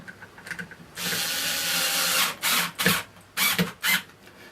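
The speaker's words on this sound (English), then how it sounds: "And do those screws up." Screws are driven into a Hoover Purepower vacuum cleaner casing with a power driver: one long whirring run followed by several short bursts, close and fairly quiet.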